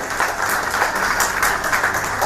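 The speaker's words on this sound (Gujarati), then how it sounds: "તો ખરેખર જોરદાર તાળીઓથી એમનું સ્વાગત કરો" A crowd claps together in steady, sustained applause, a dense patter of many hands heard from a short distance.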